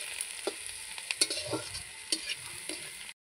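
Onions for mutton biryani fry in a pan until reddish, a faint steady sizzle with occasional light stirring clicks and scrapes, quiet and close, ending in a brief silence, no voices.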